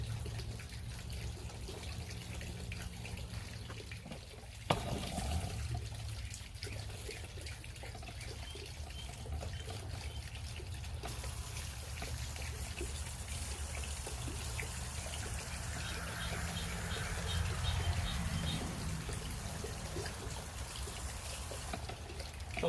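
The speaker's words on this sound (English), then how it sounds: "I'm going to water these guys in and we're all done" Water pouring steadily over newly planted coleus in a flowerbed, a continuous soft splashing and trickling that runs throughout at an even, moderate level.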